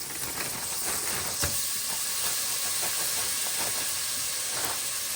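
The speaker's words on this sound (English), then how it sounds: "I'm going to add some peppers and onions" Frozen peppers and onions drop into a hot pan already holding sun-dried tomatoes, setting off a steady, loud, close sizzle that hisses on without pause and with no talking.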